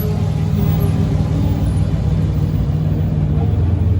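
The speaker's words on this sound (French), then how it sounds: "une 250 GT Lusso, Ferrari qu'on n'avait pas encore vu aujourd'hui, en noir comme ça" A black Ferrari 250 GT Lusso drives past at a classic car rally, its engine a steady, loud low rumble that holds close throughout with no voices over it.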